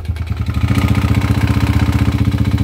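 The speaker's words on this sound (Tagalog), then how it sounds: "So pakinggan natin yung andar niya mga kabro bago natin baklasin yung makina." A noisy 200cc motorcycle engine runs at a steady, loud, close idle, its rapid, even, chugging pulses clattering without a break.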